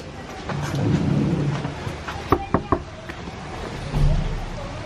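Thunder rumbles and rain during a thunderstorm outside a hotel in Orlando, Florida, with low rolling booms and a few sharp cracks over steady rainfall, while voices talk nearby.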